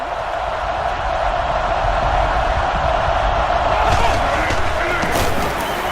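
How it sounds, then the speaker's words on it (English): Stadium crowd in the Madden NFL 11 football video game roars steadily and loudly throughout, with the noise swelling toward the end, as if reacting to a big play. "I love listening to the crowd when you see a catch like that."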